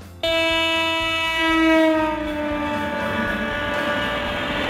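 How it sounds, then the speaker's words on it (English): A container train sounds a loud sustained horn that fades as the rumble and rattle of passing freight cars carries on. "Container train, a type of train designed specifically to carry containers"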